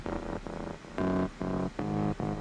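A bass sample with subtle FabFilter Pro R reverb plays a rhythmic run of about six buzzy low sustained notes, the gaps slightly filled by a faint tail, loud and alone.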